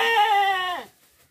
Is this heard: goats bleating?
yes